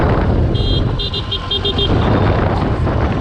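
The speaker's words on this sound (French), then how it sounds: "Oups, j'ai le klaxon." Horn on a Harley-style motorcycle riding in India, sounding several short honks in an uneven burst over steady engine and road noise, loud and close.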